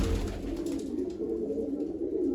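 Young pigeons with fifteen-day-old feathers coo softly and continuously while being handled up close, a low, throaty murmur running through the whole moment.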